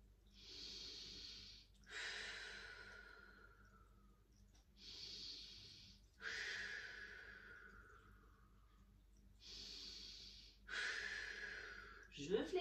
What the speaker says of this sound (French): j'inspire et j'expire 3 fois profondément